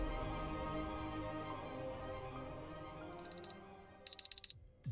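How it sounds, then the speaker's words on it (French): An alarm clock rings inside a tent at night, two short bursts of shrill electronic beeping followed by a longer run of four pulses, sounding fairly close over a quiet background. "Le réveil sonne à 23 h."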